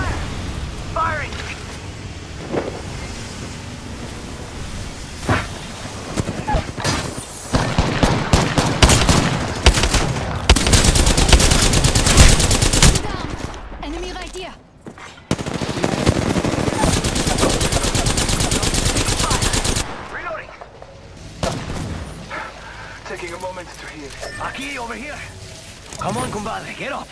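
Bursts of automatic gunfire and explosions in the video game Apex Legends, loud and sustained in long stretches with brief pauses, while players talk over the combat.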